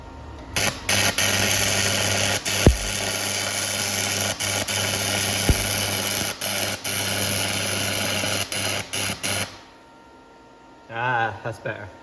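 A cheap welder turned up to full power lays a weld in a shed, giving a steady close crackling buzz broken by brief gaps and pops, then stops before a short burst of talk.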